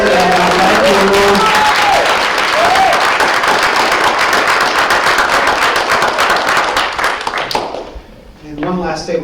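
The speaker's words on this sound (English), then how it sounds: "please, a round of applause for all the candidates" Crowd at a candidates night claps loudly and continuously for the candidates, a dense close applause with some chatter and voices beneath it, fading out near the end before a voice starts.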